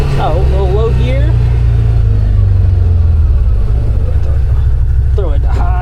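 A CFMoto UForce 1000 side-by-side rumbles along in low gear with a steady, deep engine drone close by, while someone talks over it.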